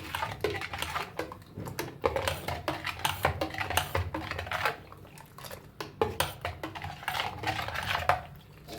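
A spoon stirs sugar, coriander and mint into a summer juice, producing quick, light clinks and scraping taps against a vessel, steady and close with no talking.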